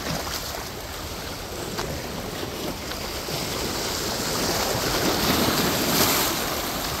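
Ocean waves wash onto a beach at night, a steady roar of surf with wind buffeting the microphone, swelling slightly toward the end.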